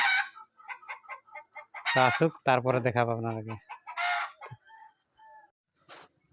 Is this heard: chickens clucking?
yes